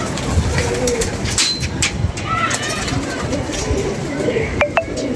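Pigeons coo in a loose rhythm amid a busy outdoor pigeon loft, soft and fairly close, with background voices and clutter throughout and a couple of sharp clinks near the end.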